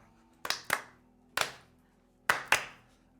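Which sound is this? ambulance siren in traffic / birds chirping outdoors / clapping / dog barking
clapping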